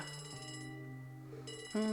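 A telephone rings in the Trails from Zero video game, a tonal electronic ringing pattern that shifts pitch and then jumps louder near the end, heard alone.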